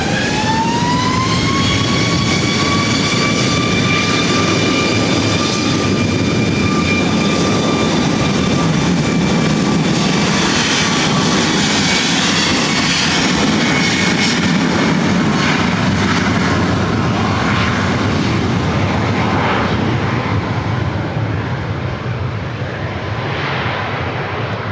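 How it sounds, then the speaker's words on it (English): A Southwest Airlines Boeing 737 MAX 8 bound for Honolulu takes off from runway 24 right at LAX with a loud, sustained jet roar and a high whine that rises, then eases slightly toward the end. "This is Southwest Airlines 2551, taking off to Honolulu on a MAX 8."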